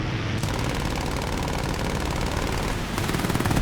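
A He 51 B-2H biplane's machine guns fire in War Thunder air combat, one long continuous rattle of rapid shots over the droning engine, loud and close throughout.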